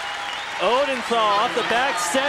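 A crowd applauds at a 2004 regional semifinal volleyball match between Hawaii and Wisconsin, a broad steady clapping that runs under a commentator's play-by-play.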